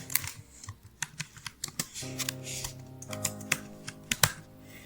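A name typed on a computer keyboard while filling in a scholarship form online, a quick irregular run of close, crisp key clicks at a low level.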